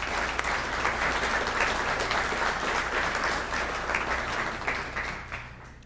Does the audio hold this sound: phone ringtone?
no